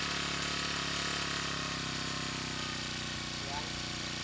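A four-stroke brush cutter engine idles steadily after its idle speed is turned down, a continuous close, even hum with faint rattle throughout.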